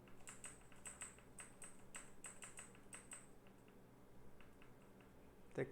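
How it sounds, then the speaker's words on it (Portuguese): Quick, faint clatter of a noisy computer keyboard being typed on in bursts of key taps, with a short pause midway and a louder knock right at the end. "Teclado barulhento, né?"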